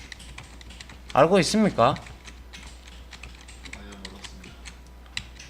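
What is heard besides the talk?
computer keyboard keys pressed (Ctrl, Page Up/Down)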